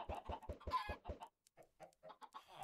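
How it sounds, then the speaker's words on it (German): Chickens clucking in the video game Minecraft, a quick run of loud, close clucks followed by softer scattered clucks and cackles. "Hühner können wir auch bei uns, aber ja, die gackern so rum, tapseln, das macht bloß Krach."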